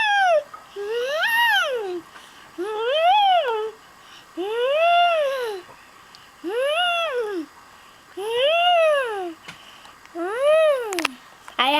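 A voice imitates a made-up Vortec creature with six loud, swooping, rising-and-falling wails, each lasting about a second and separated by short pauses, resembling a TARDIS groan.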